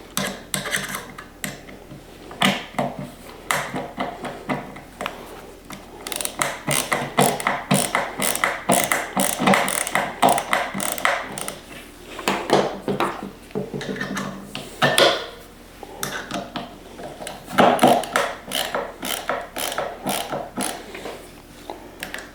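An LTT ratcheting screwdriver turns a screw with a long run of rapid ratcheting clicks in bursts, pausing briefly between strokes. It sounds close and loud, with faint metallic ticking and no speech.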